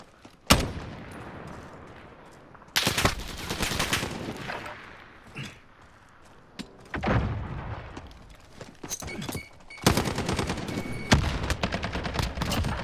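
A handgun or rifle fires through windows in bursts. Sharp gunshots and rapid volleys crack loudly and close in several separate clusters, with short quiet gaps between them.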